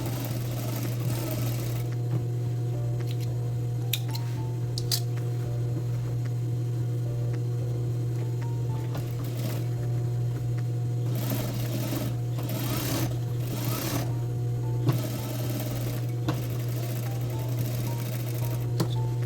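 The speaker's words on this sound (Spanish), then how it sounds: "ahora voy a pespuntear sobre la pieza más grande" A sewing machine topstitching denim on a pair of men's jeans runs in steady, fast, buzzing stitching bursts with brief pauses, close and continuous over a low mains hum.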